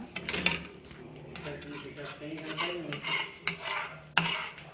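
A utensil stirring food in a pan cooked with butter, close clinks and scrapes against the cookware recurring irregularly, with a voice speaking at times in the background.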